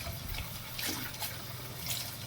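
Water runs and splashes over tumbled rocks being rinsed, a faint, steady running-water wash with small swells of splashing and no talking.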